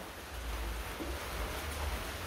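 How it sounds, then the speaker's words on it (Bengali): Steady rain falls as a soft, even hiss of drops with a low rumble underneath, continuous and fairly faint, with no voices. "বৃষ্টি বৃষ্টি বৃষ্টি বৃষ্টি"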